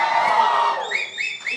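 A live stage-show audience cheers and whoops loudly, rising to greet actor Allari Naresh, with a dense crowd roar at first and then high shouts and whistle-like calls breaking out in bursts.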